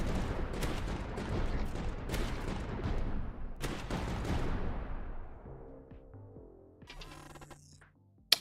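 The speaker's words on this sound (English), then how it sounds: "this mortar's not doing too bad" Mortar tower firing in the strategy video game Tower Dominion: a run of booming, overlapping blasts with sharp repeated shots that decay into a fading rumble, then a brief mechanical chime and a final click.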